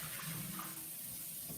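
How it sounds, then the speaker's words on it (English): Tap water runs steadily into a sink while green beans are rinsed, a continuous soft hiss of flowing water, close but quiet, brief and without speech. "I'm going to rinse off these green beans."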